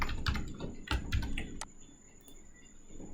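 Quick bursts of typing on a computer keyboard, close clicky keystrokes for about a second and a half, then quiet.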